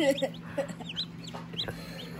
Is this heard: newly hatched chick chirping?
yes